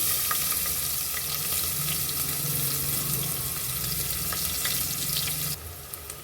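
Onion frying with cumin and hing in hot oil, giving a steady, loud sizzle and crackle that holds level throughout with small pops and no talking.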